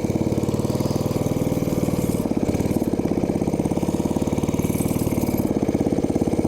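A Briggs & Stratton 5 HP engine on a homemade chopper runs steadily while being ridden, a loud, rapid, even putter throughout the clip.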